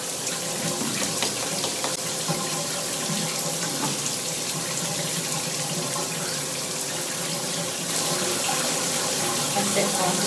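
Shower water runs steadily and close while hair is quickly re-wet during a wash-and-go styling routine, a full, even spray with no pauses.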